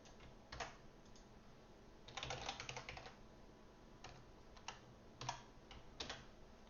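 Quiet, close typing on a computer keyboard, with scattered key clicks and a brief flurry of faster keystrokes.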